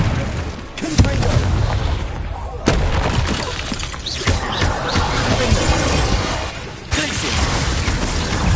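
Confringo blast spells cast over and over in the Hogwarts Legacy video game: loud, close booming explosions and crashing impacts in quick succession over a dense, continuous roar of battle effects.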